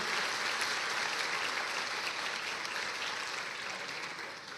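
A church congregation claps together during a Portuguese-language sermon, a thick, even wash of applause from many people that holds steady and fades slightly at the end.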